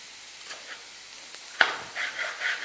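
Potatoes and onions cook in a pan for a Spanish omelette. A faint sizzle is broken by a sharp clink partway through, followed by a few soft stirring scrapes.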